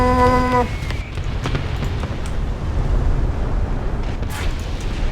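Artillery explosions in War Thunder tank battle: a steady roaring rumble of blasts and booms with a few sharper impacts, loud and sustained, no talking.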